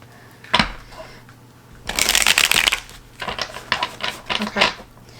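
A deck of tarot cards is shuffled by hand in a few bursts of crisp riffling and flapping, close and fairly loud, with brief pauses between.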